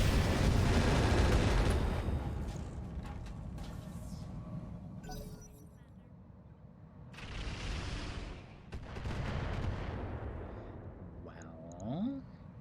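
Mech weapons firing in the RogueTech mod of the BattleTech video game, heavy booming blasts and rumbling explosions in several loud waves, with someone talking.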